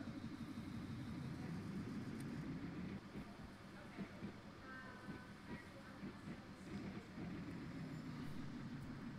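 An engine starter cranks in Stormworks, a faint, steady mechanical whir with low rumble and scattered clicks continuing for several seconds at a distance.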